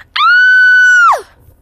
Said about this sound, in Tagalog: Sigaw ng babae at pinagbabato siya.